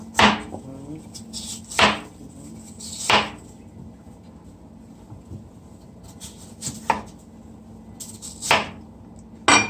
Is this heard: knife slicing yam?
yes